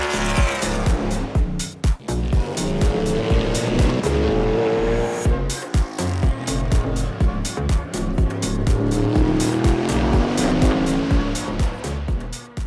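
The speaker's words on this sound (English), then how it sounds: "The Garage 56 Chevrolet Camaro was a NASCAR Cup car modified to compete in the 24 hours of Le Mans." A Garage 56 Chevrolet Camaro, a NASCAR Cup car modified for the 24 Hours of Le Mans, roars loud and close, its engine note sweeping up and down through gear changes with sharp rapid crackles and tire noise.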